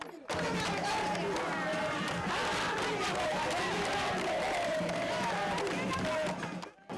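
A large crowd from the Guinean community in Banjul, Gambia, greets the president with loud, sustained cheering, shouting and ululation, a dense wall of voices that swells steadily and cuts off abruptly at the end.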